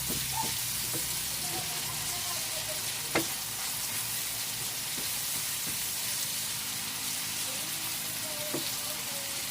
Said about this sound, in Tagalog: halu-haluin ng konti para lumasa